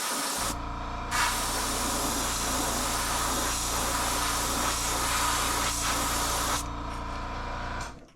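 Airbrush spraying paint onto a fishing lure, a steady close hiss of compressed air that runs almost unbroken for several seconds before cutting off near the end, with no talking.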